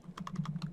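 A computer keyboard is typed on in a quick burst of about six close, soft keystrokes, with a low hum underneath.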